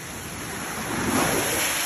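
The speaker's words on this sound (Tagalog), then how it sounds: "malaki ang alon dito" Big ocean waves surge onto the beach at Luzoy Beach Resort in Bauan, Batangas, one broad crashing wash swelling and hissing up close amid steady wind noise.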